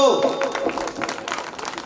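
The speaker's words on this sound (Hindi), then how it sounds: "बोलो हाँ, ताली बजाओ तो" An audience at a Jain Tap and Gyaan Kalyanak religious celebration claps in a brief scattered burst, mixed with a voice speaking over it.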